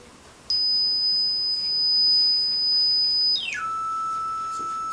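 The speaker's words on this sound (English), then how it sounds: "As I increase the frequency, it gets higher and higher and higher" A steady pure electronic tone holds high for about three seconds, then sweeps quickly down to a lower steady tone. No voices.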